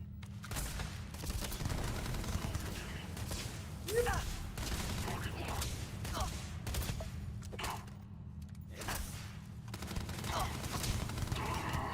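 Bursts of heavy-recoil gunfire from a weapon in the Starfield video game, a dense, continuous volley of shots over steady game background noise, with a voice talking at times.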